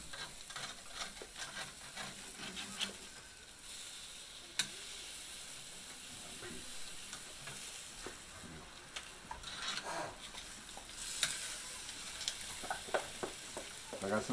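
BBQ chicken pieces sizzling over an open fire pit outdoors, a steady crackling hiss with scattered pops and snaps, fairly faint and continuous throughout.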